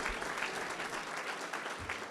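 A crowd at a mayoral candidate forum in Frisco gives the candidates a round of applause: brisk clapping that holds steady across the whole stretch, with a faint murmur of voices underneath.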